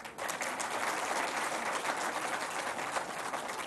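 Sustained applause from an audience at an investment and innovation award ceremony, a steady dense clapping that swells in quickly and holds at an even level throughout.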